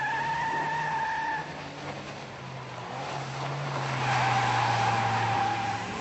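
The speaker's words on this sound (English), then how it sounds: "how you can stop your car from skidding" A car skids under hard handbraking and steering, its tires squealing in long drawn-out smears over a steady engine drone, fairly loud and continuous throughout.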